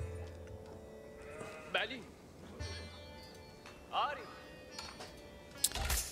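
Sheep bleat in a wavering, sheep-like way in Age of Empires IV: three separate cries spread across the stretch, each of moderate loudness, set against a steady hum of game ambience and music.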